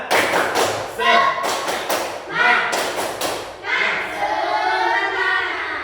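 Schoolchildren in a classroom do a patterned rhythmic clap, three loud bursts of synchronized hand claps and desk thumps separated by brief pauses, mixed with children's chanting and shouts.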